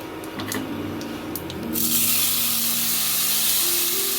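Chopped tomato hitting hot oil with fried cumin in a pan for a vegetarian sabudana khichdi: a few light taps, then a sudden loud burst of sizzling that settles into a steady, close hiss.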